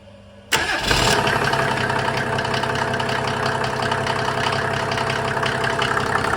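A Mercedes OM603 diesel engine driving a PN-40 motor pump cranks and catches abruptly after a half-second of quiet, then settles into a loud, steady rattling idle close by, with no talk.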